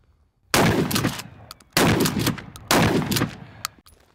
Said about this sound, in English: let's fire a little bit of buckshot through this guy right here